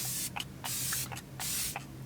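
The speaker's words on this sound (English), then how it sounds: "You always gotta do a little test spray, you know, because you don't want it to spit on you." A KVD Beauty Lock-It setting spray bottle releases several quick bursts of fine mist, each a short airy hiss repeated in a steady rhythm, close and fairly loud.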